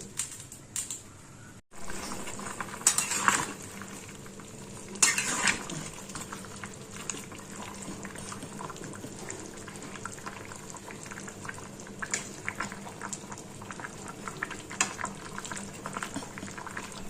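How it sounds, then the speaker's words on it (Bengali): Vegetable jhol with potato, carrot, pointed gourd and spiny gourd simmers under a lid in a pot, a faint steady bubbling hiss with a few louder clinks and knocks. "এটা ঢাকা দিয়ে ফুটতে দিই আর ফুটে যাক একটু সেদ্ধ হয়ে যাক"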